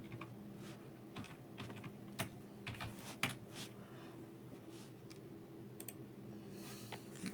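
Soft, steady clatter of computer keyboard typing, close but faint, with irregular keystrokes over a constant low hum throughout.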